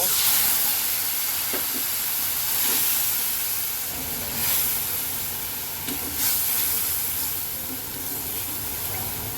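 A turmeric and coriander spice paste mixed with water sizzles in hot oil as it is sautéed, making a loud, continuous hissing sizzle with occasional stirring scrapes and no talking.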